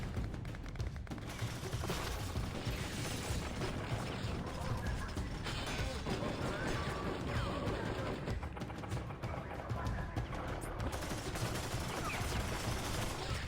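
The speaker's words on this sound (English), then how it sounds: "I can shoot at whoever I want, whether it's the proper guys or not" Crackling bursts of gunfire in the video game Ghost Recon: Future Soldier, an E3 2010 demo build, fairly faint under a dense, steady wash of battle noise.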